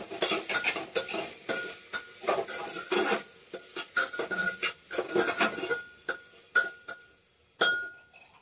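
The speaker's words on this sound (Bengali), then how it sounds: "নাড়াচাড়া করে দেবো।" Vegetable curry is stirred in a pan while it fries, with irregular scraping strokes and sharp metallic clinks against a faint sizzle, close up and with no talking.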